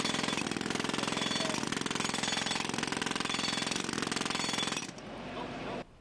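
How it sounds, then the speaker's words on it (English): Jackhammers pounded by students at a construction fair: a loud, continuous rapid hammering that runs steadily for about five seconds, then drops away to quieter background noise. "The students can do anything from building birdhouses to operating jackhammers."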